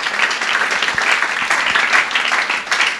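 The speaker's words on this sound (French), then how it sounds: "Acclamons la parole de Dieu." A church congregation applauds continuously, a dense and fairly loud wash of clapping that stays steady with slight swells from start to finish.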